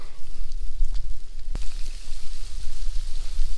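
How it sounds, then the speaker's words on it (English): Outdoor rain falls steadily, a dense hiss of drops pattering on surfaces close by, with one sharp louder drip or tap standing out midway and no talking. "So as I walk out here in the rain now"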